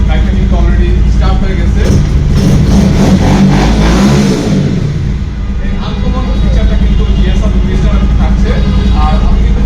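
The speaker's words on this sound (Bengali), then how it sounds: "চাবি ছাড়াই কিন্তু রিমোটের মাধ্যমে বাইক স্টার্ট করে ফেলতে" A GSR Movistar motorcycle, started by remote with no key, runs its engine and revs loudly and up close, with a surge in the middle and steady running before and after, over a low droning background.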